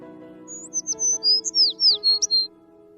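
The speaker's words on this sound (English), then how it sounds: "Bird" A small bird chirps a quick series of bright, high notes, about eight short calls in a rapid run, clear and close over a faint steady hum.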